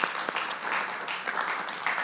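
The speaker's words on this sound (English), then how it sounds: "Let's give her a big round of applause." An audience at a panel discussion gives a round of applause, a soft, steady patter of clapping from a room of people with a few sharper individual claps standing out.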